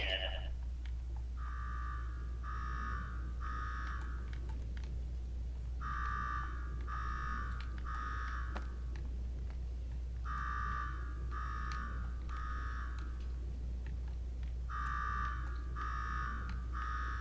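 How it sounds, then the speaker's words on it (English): A synthetic alarm in Fallout 4 beeps in repeated groups of three rapid tones, looping steadily over a low constant hum. "Now go shut off that damn alarm"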